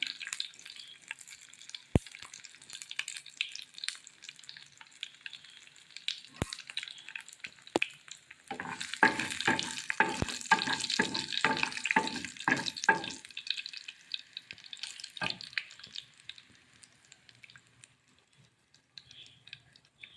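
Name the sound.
curry leaves and dried red chillies sizzling in hot oil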